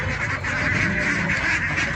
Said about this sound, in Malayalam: താറാവുകൾ അത്യാവശ്യം സൈസായിട്ടുള്ള താറാവുകളാണ്